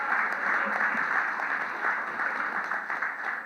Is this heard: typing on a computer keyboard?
no